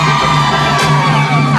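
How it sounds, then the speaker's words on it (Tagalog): Team C crowd at a Filipino game-show prize draw, shouting and cheering loudly together, a dense sustained roar of voices with whoops lasting under two seconds. "Parinig nga ng sigawan ng Team C!"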